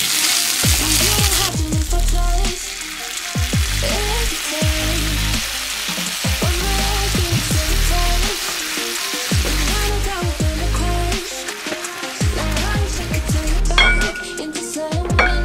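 Fried rice frying in a pan at home, a steady loud sizzle with scraping stir strokes throughout and no talking.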